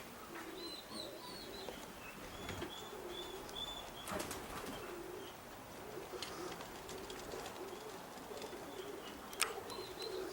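Young racing pigeons flap their wings in flight over a high mountain area, bursts of wingbeats coming and going with soft coos and chirps in the background, fairly faint and no talking.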